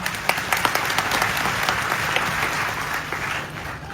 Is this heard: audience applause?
yes